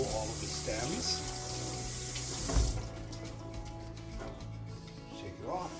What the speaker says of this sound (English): So you're gonna rinse, you want to pull it apart ever so slightly to make sure the water gets through all of the stems.